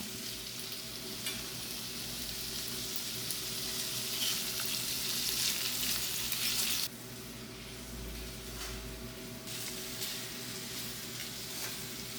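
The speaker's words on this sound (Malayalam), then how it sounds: "ഉള്ളിയും പച്ചമുളകും അരിഞ്ഞത് അതാണ് ചേർക്കാം ആദ്യം ഇനിയിപ്പോൾ ഇത് നമുക്ക് നന്നാക്കി വഴറ്റിയെടുക്കാം" Chopped onions and green chillies sautéing in a pan, a steady dense sizzle with occasional stirring scrapes, close and continuous, a brief dip in level midway, with no talking.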